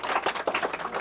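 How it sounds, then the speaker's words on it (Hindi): Scattered claps from classroom students, a quick run of sharp, uneven hand strikes close by with no voices. "मारो जोरदार ताली इसके लिए"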